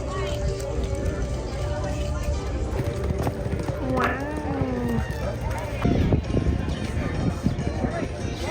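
Horses at a rodeo contest in California, with faint hoof clip-clop buried under steady crowd noise and nearby talk, plus a few honking bird calls.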